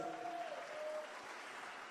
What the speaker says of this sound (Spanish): Denle un fuerte aplauso al Rey maravilloso.